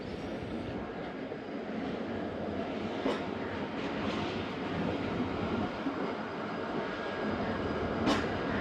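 Zakariya Express passenger train running, a steady rolling rumble of the carriages with a couple of sharp clicks from the track, heard alone and at moderate level.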